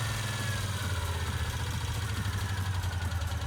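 Motorcycle engine idling steadily, a low, even throb with a constant rhythm, close and alone, heard while its charging system is being tested.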